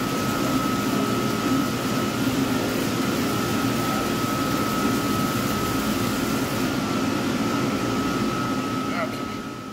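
A reverse osmosis machine concentrating maple sap runs with a loud, steady whooshing hum and a constant high whine, unchanging for nearly ten seconds before easing slightly at the end.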